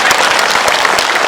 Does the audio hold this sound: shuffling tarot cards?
no